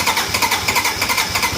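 A Daihatsu Taft GT engine cranks over with a rapid, rhythmic starter-motor whir, loud and close, pulsing steadily without catching, its glow plugs not yet working.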